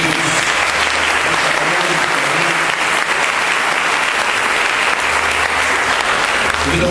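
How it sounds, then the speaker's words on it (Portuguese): A church congregation applauds steadily, a dense continuous wash of clapping from many hands that fills the space without pause. "Convido você a aplaudir a palavra de Deus."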